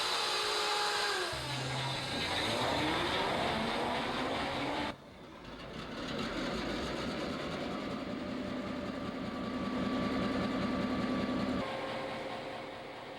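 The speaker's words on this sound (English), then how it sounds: "layout designer Jim Pallow arrives and makes his way to the pair of FP7 locomotives." Pair of FP7 model locomotives running on a model railroad layout, a steady mechanical hum and rumble with a whining pitch that shifts, the sound dropping briefly partway through before the running noise resumes loudly.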